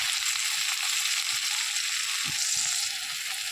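Tomatoes sizzle in a hot pan while being cooked down for a Bengali small bata fish curry, producing a steady close frying hiss with soft scraping stirs and no voices.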